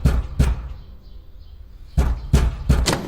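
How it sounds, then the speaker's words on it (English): Fist banging on a door in a radio drama, two heavy knocks, a pause, then three more close, loud thuds with no talk. "banging on my door before I was awake and brushed my teeth"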